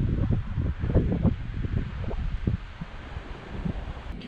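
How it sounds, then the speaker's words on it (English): Wind buffets a GoPro windshield in low, irregular gusts and rumbling thumps, heavier in the first half and easing toward the end, close and rough. "Facing directly into the wind to the side"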